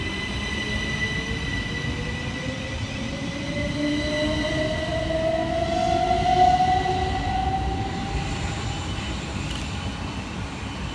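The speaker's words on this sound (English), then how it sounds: "And going in the opposite direction for Southern is 377-439, working the 1037 Southern service from London Victoria through to Reigate." Southern class 377 electric train 377-439 rolls past close by with a loud sustained rumble of wheels on rail and a rising, whining tone from the traction motors, swelling to a peak midway and then holding steady.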